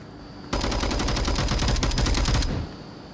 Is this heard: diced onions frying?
no